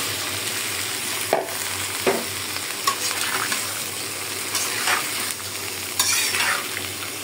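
Dried fish curry sizzles steadily in a pan as washed vegetables go in, with a continuous loud frying hiss broken by several scraping stirs of a spoon against the pan.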